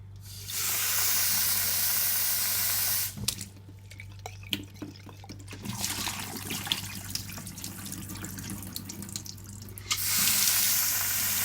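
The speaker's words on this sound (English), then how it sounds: "I'm going to rinse them until the water runs clear." Tap water rinsing radish sprouts in a sink: a loud steady gush from the faucet runs alone for about three seconds, gives way to quieter splashing, dripping and handling of wet sprouts, then the full stream returns at the end.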